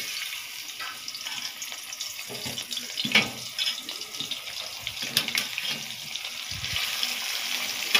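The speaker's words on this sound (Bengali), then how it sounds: "ওখানে ভাতের মারও গেলে ফেলছি।" Starch water drained off boiled parboiled rice, a steady hissing pour of hot water that runs throughout, with a few soft clunks and splashes near the middle and end.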